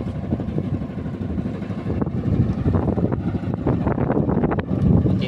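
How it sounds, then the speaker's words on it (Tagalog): Boat engine running steadily with a low, rough drone, mixed with wind buffeting the microphone, continuous and fairly loud throughout. "Ano yung takbo ng makina oh."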